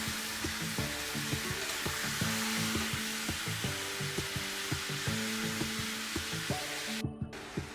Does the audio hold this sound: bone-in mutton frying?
yes